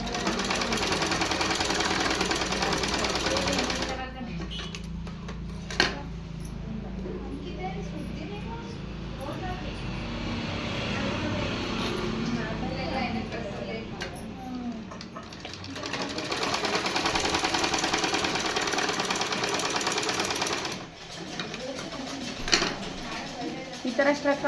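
Sewing machine stitching a blouse, a continuous mechanical whir with some clatter, running under a voice that talks throughout.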